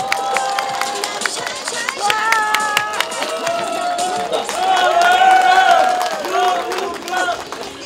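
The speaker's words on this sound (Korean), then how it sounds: "박수 부탁드리겠습니다." A crowd at an outdoor election campaign rally in Pohang claps and cheers loudly over sustained noise, with shouting voices and a few shrill whistles or tones rising through the applause.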